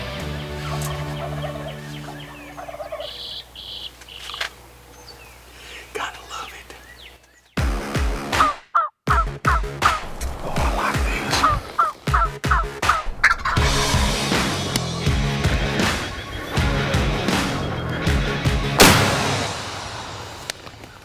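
Wild turkeys gobbling on a Kansas turkey hunt: a quieter stretch gives way to loud, sharp, repeated gobbling bursts that come close together and stand alone without speech.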